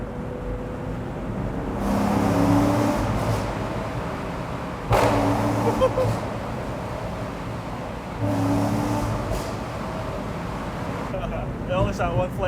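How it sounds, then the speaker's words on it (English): Chevrolet C6 Corvette exhaust burbling and popping: engine revs swell and fall in a few bursts, with sharp cracks and crackles at the exhaust, close to the car while people talk over it. "We'll do this one, burbles and pops."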